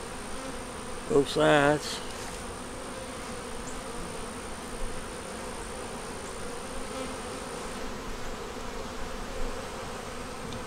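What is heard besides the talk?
honey bees buzzing in opened hive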